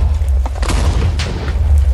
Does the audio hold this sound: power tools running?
no